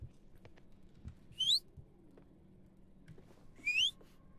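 A person whistles two short rising notes a couple of seconds apart, clear and fairly close, over a quiet room-like background with faint thumps and no talk.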